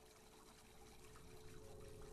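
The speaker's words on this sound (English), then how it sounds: "Filling up with water?" A room filling with water in the horror game Deep Sleep, heard as a steady, faint rushing and trickling of pouring water with no speech.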